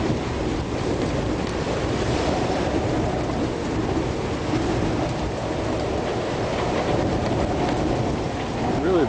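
Strong wind blows across a boat lying at anchor, a constant loud roar and rumble of gusts and microphone buffeting, with water washing beneath it throughout.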